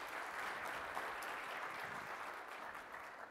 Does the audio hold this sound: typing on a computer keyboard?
no